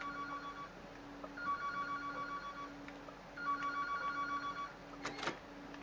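A telephone rings in a quiet room, its electronic tone coming in repeated bursts of a few seconds each, fairly faint, with a brief clatter near the end.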